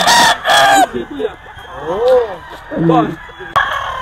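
A White Kelso gamefowl rooster crows nearby, long loud calls amid clucks and other fowl, with someone talking over and between them.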